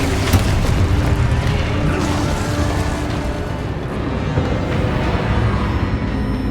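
A Confringo blasting spell in the Hogwarts Legacy video game sets off a heavy rumbling explosion that roars on for several seconds as a thick, sustained boom with crackling debris, loud and close, with no speech.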